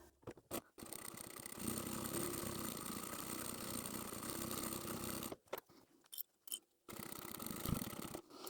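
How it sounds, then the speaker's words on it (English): A sewing machine runs along a fabric edge with a continuous buzzing whir for several seconds, then stops. After a few short starts and pauses it runs again briefly. The whole thing is quiet and close. "we'll sew the bottom edge first. And we'll go back to the beginning and we'll sew the top edge"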